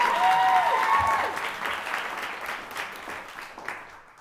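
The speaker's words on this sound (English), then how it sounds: "clap for that" An audience applauds a high school choir after it earns a superior rating at an MPA performance, steady broadband clapping from many hands that starts loud with a brief cheer or whistle, then gradually thins and fades over four seconds.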